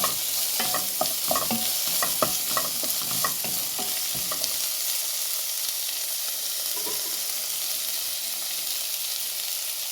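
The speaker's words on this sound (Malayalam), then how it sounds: "അതിനെ ഒന്നും കൂടെ ഇളക്കി കൊടുക്കാം." A spoon scrapes and clatters through an apple, tomato and yogurt curry in a sizzling pan for several seconds, then the stirring stops and a soft, steady sizzle carries on alone.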